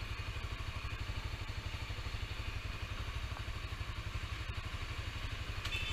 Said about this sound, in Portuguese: De moto, né? Olha o trânsito doido.